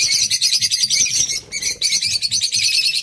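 Small caged birds bred at home in a pet shop chirp loudly and continuously, a dense, rapid twittering close by with only a brief dip, no voices.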